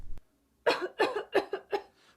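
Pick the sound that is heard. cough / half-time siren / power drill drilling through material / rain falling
cough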